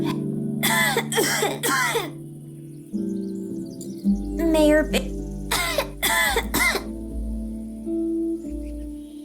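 Coughing from a character in the video game 3 Minutes to Midnight, a few sharp coughs rising over a steady synthesized game backdrop, with spoken dialogue between characters around them.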